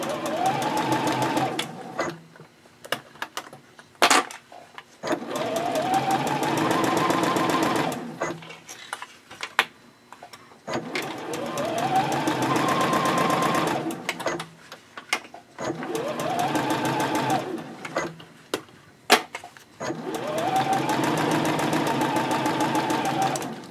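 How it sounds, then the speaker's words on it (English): A sewing machine bastes down the side of a small backpack gusset in several loud, rapid bursts of stitching separated by short pauses as the fabric is pivoted, with occasional clicks between runs. "I'll pivot again and baste down the side of the gusset"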